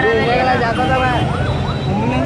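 An ambulance siren on a road wails in rising and falling sweeps, loud and close, with traffic noise underneath and no break across the whole stretch.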